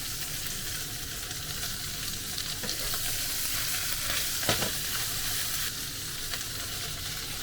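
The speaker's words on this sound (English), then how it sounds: "I'm gonna cook meat and vegetables" Meat and vegetables, including white onion and carrots, fry in rice oil in a pan for Japanese yakisoba, giving a steady, close sizzle with occasional stirring clatter and no talk.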